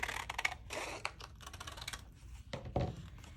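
Scissors snip through paper ephemera in a quick, close series of crisp cuts and rustles, with brief pauses between bursts and a final louder snip near the end.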